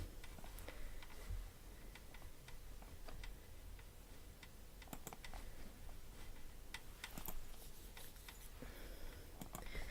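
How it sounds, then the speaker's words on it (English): Sharp, irregular clicks of a computer mouse, some in quick pairs, over a low steady background hum. "can hear me clicking away on my mouse there"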